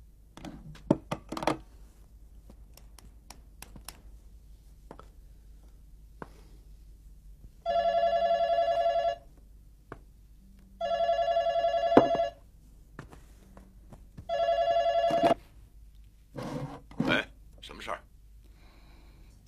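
An old-style telephone bell rings three times in long regular bursts separated by pauses, loud and close, with short knocks and brief voices around the rings.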